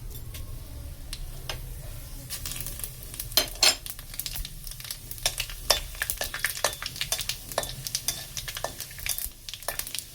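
Asafoetida and whole spices sizzle in hot oil in a wok. A frying hiss runs underneath while a spoon strikes the wok in sharp, irregular clacks as the spices are stirred, close and loud, with no talking.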